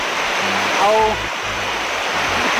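Punjisil Waterfall in Koraput, a picnic spot with water pouring over rocks, gives a steady, loud rushing roar throughout, with faint low voices in the background.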